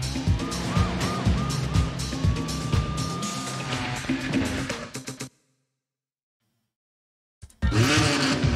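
Car driving in a PlayStation 2 border-smuggling game, engine droning steadily with rhythmic thumps and a rising whine, then cutting to silence for about two seconds before loud engine noise returns.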